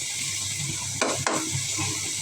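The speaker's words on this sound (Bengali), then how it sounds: "টমেটো দিয়ে ভালোভাবে কষাই নেব" Tomatoes are sautéed in a pan with a soft, continuous sizzle, and two quick stirring scrapes cut through near the middle.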